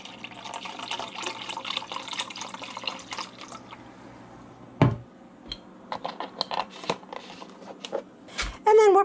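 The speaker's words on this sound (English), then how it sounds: "So I'm going to go ahead and pour that in here," Chicken broth is poured into a measuring cup in a home kitchen. It makes a trickling splash with light clinks of the cup, a brief thud midway, and scattered clicks and taps around it.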